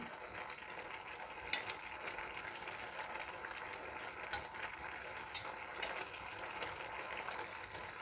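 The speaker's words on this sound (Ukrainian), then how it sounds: "зараз я ще трішечки перемішаю для надійності" Rice pilaf being stirred in a pan, soft faint scraping and a few light clicks of a utensil over a low, steady background hiss.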